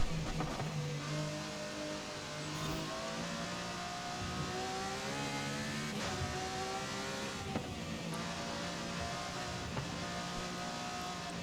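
A mental race car in Forza Horizon 5 driven on a touge mountain road, its engine droning and revving steadily through gear changes, close and continuous with no talking.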